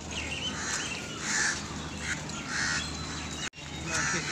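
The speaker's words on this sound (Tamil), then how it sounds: "மயில் சத்தம் வந்து எங்கனாலும் வந்து மயில் சத்தம் வந்து கேட்டுக்கிட்டு இருக்கு." Peacocks call at the New Delhi zoo, giving repeated loud wailing cries over a steady outdoor background hum.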